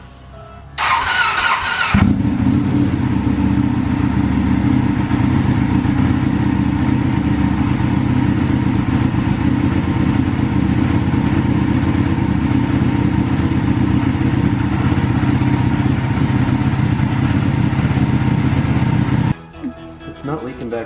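A carbon-bodied Ducati Panigale motorcycle engine cranks briefly, then catches near the start and settles into a loud, steady, close idle that runs for about seventeen seconds before cutting off abruptly.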